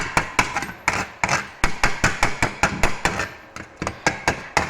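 A hammer taps rapidly on a weld spot in metal tubing to chip off electrode slag, giving a close, sharp series of roughly twenty quick metallic knocks in an uneven rhythm.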